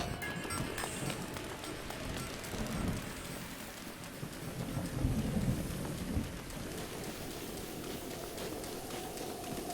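Thunderstorm in the video game Breath of the Wild, with steady pattering rain and low rolling thunder swelling midway, a continuous wash of weather sound with no voices.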